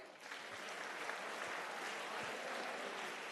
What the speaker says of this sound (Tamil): நல்ல ஒரு பெரிய கைதட்டு தாங்க